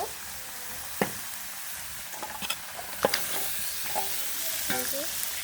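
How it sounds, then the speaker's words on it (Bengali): Washed pangas fish pieces going into a hot, fried spice paste in a pan, with a steady sizzle and several sharp scraping stirs and clacks of a spatula up close. "মশলাটা কিন্তু কষানো হয়ে গেছে এখন আমি এখানে ধুয়ে রাখা মাছ দিয়ে দিব"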